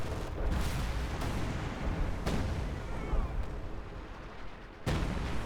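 Artillery barrage in the Company of Heroes 2 video game, called onto enemy troops by an OKW fortifications commander: heavy booming impacts land at irregular intervals over a constant rumbling roar of shelling.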